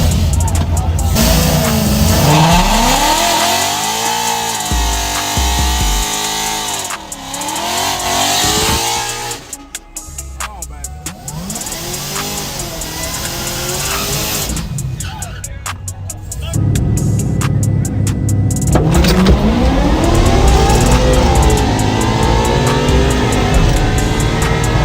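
Mustang and Caprice street race cars accelerate hard, with loud rising engine roar and repeated gear-change sweeps over about 25 seconds, a brief lull midway, then full-throttle howl again.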